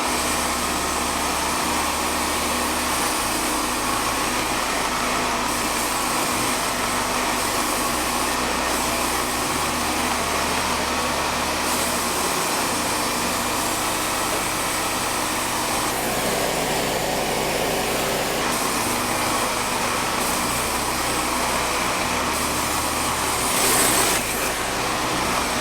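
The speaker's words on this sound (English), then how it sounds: "and now we're gonna chop it into 1-inch cookies." A Cookie-Mizer saw rig cuts a clamped, spalted camphor log into 1-inch cookies, giving a loud, continuous engine drone with slight shifts in pitch as the cut progresses. No one speaks.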